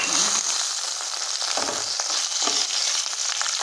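Fox nuts (makhana) roast in a pan over medium-low gas, giving a steady dry sizzle and crackle with faint stirring scrapes throughout, alone and close.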